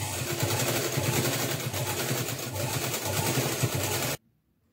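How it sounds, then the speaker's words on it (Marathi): Sewing machine stitching a belt for a party wear frock, a fast steady mechanical whir and clatter close by for about four seconds before stopping abruptly into silence. "मी जे बेल्ट कट करून घेतले होते ते आता शिवून पलटी टाकून घेणार आहे"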